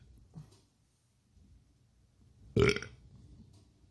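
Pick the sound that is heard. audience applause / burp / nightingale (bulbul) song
burp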